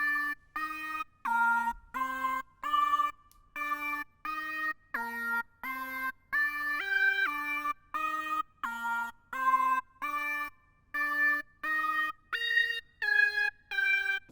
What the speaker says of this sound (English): Then we have the first lead, which is going to sound like this.